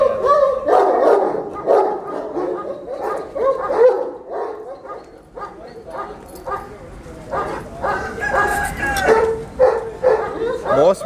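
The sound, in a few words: bully dog barking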